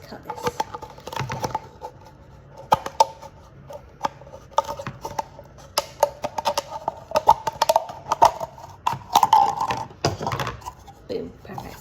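Scissors snip through plastic in a run of short, crisp cuts at close range, a rhythmic patter of clicks and rustles with occasional handling noise.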